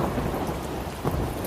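Heavy rain pours steadily in a cartoon thunderstorm, a loud, dense hiss with low rumbling thunder rolling underneath and no break.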